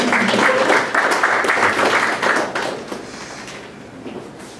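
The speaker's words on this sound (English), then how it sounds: "And if you can, please clap for them." An audience at a gathering of religious leaders applauding, dense clapping that holds for a couple of seconds and then thins into scattered claps.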